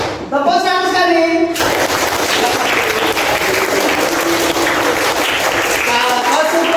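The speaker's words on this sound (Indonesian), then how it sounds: "Tepuk tunggal. Tepuk ganda." A school class in an Islamic religious education lesson claps hands on cue, a raised voice calling out briefly before a loud, dense burst of clapping that carries on with the voice returning near the end.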